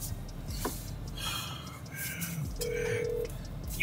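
A phone call is dialed: a few short electronic tones sound quietly, then a single sustained tone that ends abruptly.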